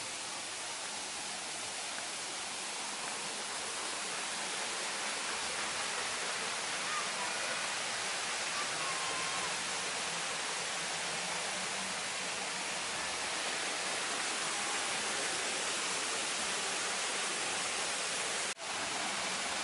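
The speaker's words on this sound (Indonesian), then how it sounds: "Enak banget sih, adem banget rasanya kalau ada pancuran air kayak gini." A water spout pours steadily at a caravan lodge in a safari park, a constant dense splashing rush that stays loud and unchanging throughout.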